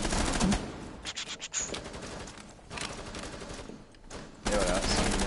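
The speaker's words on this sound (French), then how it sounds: "il est sur une Gatling invisible" Rapid Gatling gunfire from an invisible turret in the PS4 game Rainbow Six Siege, loud sustained bursts with brief gaps, a sharp burst at the start and another near the end.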